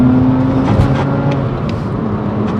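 A BMW Z4 coupe engine idles and hums with a low, rumbling drone, briefly rising in pitch, close and fairly loud, with no talking.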